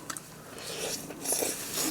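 Someone bites into a piece of soy-sauce-glazed fried chicken reheated in an air fryer, giving a soft, close crunch followed by a few seconds of moist chewing, with no talking.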